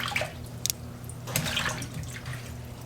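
Running water from a tap rinsing cut, opened-up leeks, a soft splashing flow with a few drips and clinks, close by and without speech.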